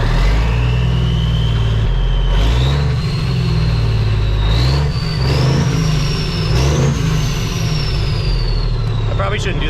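A car engine runs at fast idle just after starting, a steady loud low drone with small rises and dips in pitch, close and continuous throughout the clip.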